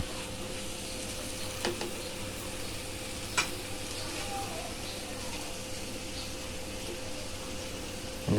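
Sweet potato leaves frying with potatoes and spices in a pan give off a steady, even sizzle, with a few soft scrapes and clinks from stirring. The sound is close but low in level, with a voice talking over it.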